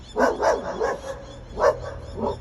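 A dog barks several times in two bursts, close and fairly loud, with short gaps between the barks and no talking.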